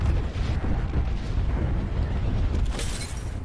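Airstrike explosions from the video game Apex Legends: continuous heavy booming and rumbling blasts fill the clip, loud and dense, with a sharper burst near the end.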